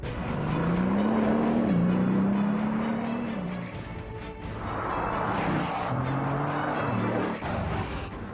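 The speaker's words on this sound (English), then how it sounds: "you can actually hear the unique sound of the VEYRON before you see it" A Bugatti Veyron's 16-cylinder engine roars past, its pitch climbing and dropping as it accelerates by, followed by a second, similar pass.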